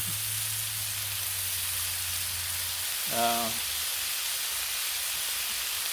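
A ham steak fries in bacon grease on a Blackstone griddle, giving a steady, loud sizzling hiss throughout. A brief voice is heard partway through.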